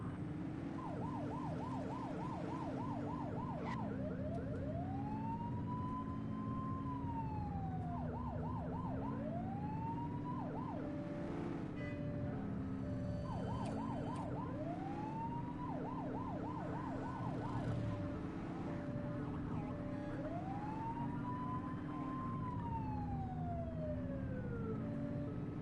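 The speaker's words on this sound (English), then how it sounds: "I like that priority siren." A police priority siren cycles loudly and continuously, switching between rapid yelping bursts and slow rising-and-falling wails, with a vehicle engine rumbling underneath.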